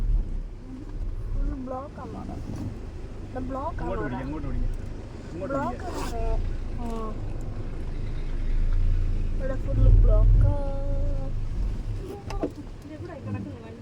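A vehicle's engine idles and then pulls away with a low, steady rumble that swells toward the end, heard close by beneath several people talking over it.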